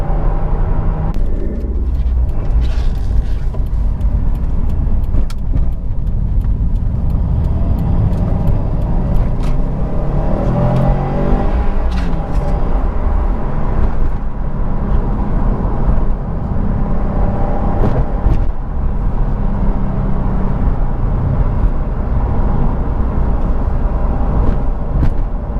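A Subaru WRX STI drives along in third gear, its engine giving a steady, loud, low rumble with road noise from inside the car and no talk.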